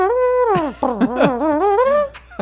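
Bending, wavering horn tones rise and fall in a short melodic phrase at the opening of Mac Miller's "Circles", played loud and alone.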